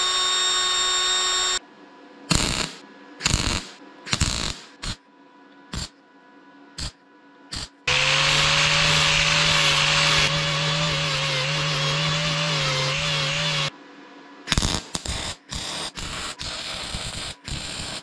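A power drill boring a new hole in the tank of a Soviet T-170 bulldozer, with short bursts of whining and grinding and then one long sustained run of loud metal drilling, close up and with no talk.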